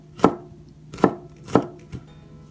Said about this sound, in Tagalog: Just cutting the garlic into small pieces.